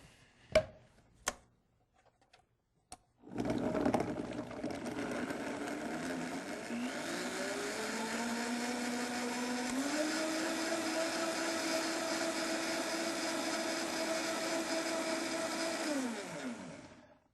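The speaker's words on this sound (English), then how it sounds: "Let's go to the blender" A blender whirs loudly and steadily for about fourteen seconds blending a vegetarian macaroni and cheese sauce, its motor pitch shifting as it runs, after a few sharp clicks and knocks at the start.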